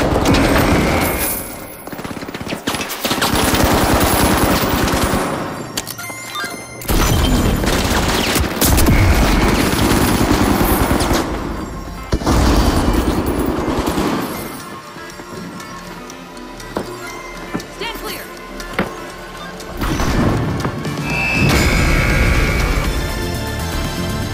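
Gunfire and explosions from The Finals video game, dense automatic bursts and heavy blasts in loud waves with brief lulls between them, and no voices.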